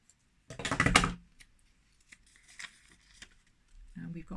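Paper being folded in half for a handmade Valentine's card, a burst of crisp crinkling and creasing up close, then lighter scattered rustles and a voice speaking at the end.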